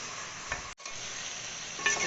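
Ingredients for biryani frying in a pan, a soft steady sizzle with a brief stirring scrape and a momentary break partway through.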